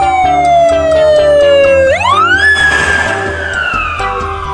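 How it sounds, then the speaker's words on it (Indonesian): A loud electronic siren wails close by, its pitch sliding down, then sweeping up and holding in a continuous cycle. "Ini ada mobil ambulan."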